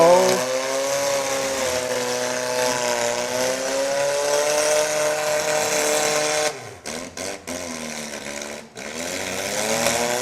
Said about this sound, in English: that motor sounds hot, doesn't it?